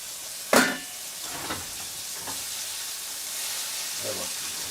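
Sauger fish frying in a pan at an off-grid cabin, a steady close sizzle with a sharp hiss as something hits the hot fat and a few softer spatters after.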